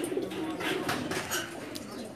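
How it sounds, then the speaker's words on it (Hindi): Pigeons coo on a rooftop with soft, low rolling calls, mixed with light chirps and flutters, while someone talks over them. "ये सब उड़ने वाले कबूतर हैं जी"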